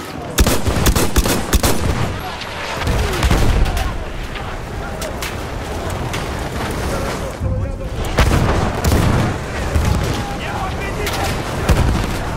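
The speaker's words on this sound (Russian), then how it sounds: "Граната! Поберегись!" A grenade blast and ongoing battle noise in the Battlefield 1 video game: repeated heavy booms and rapid gunfire crowd together throughout, loud and dense, with voices shouting amid the fighting.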